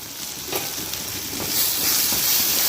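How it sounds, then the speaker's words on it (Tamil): Spice masala for crab curry sautéing in a pan, with a continuous close sizzle and frying hiss, a few scraping stir strokes, and the sizzle swelling louder toward the end. "இது எல்லாத்தையும் சேர்த்து நல்லா வதக்கிக்கிறேன்."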